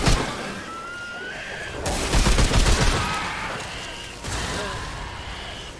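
A gun fires in the video game Remnant 2 in loud, dense bursts of shots, with a sharp burst in the middle and another near the end over a constant game backdrop.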